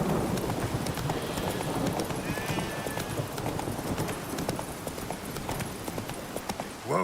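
Roach, the horse in the video game Witcher 3, trotting with steady rhythmic hoof clip-clops on the ground over an ambient game soundscape.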